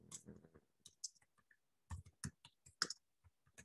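Irregular clicks of typing on a computer keyboard, close and fairly quiet, with short bursts of keystrokes separated by pauses.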